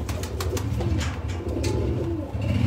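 A Sialkoti pigeon coos in low, repeated throaty bursts close by, with other birds faintly around it and no speech.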